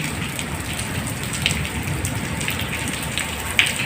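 Heavy rain pours steadily at dawn on the fifth straight day of downpour, a dense continuous hiss of drops on surfaces with a few sharper splashes rising above the wash.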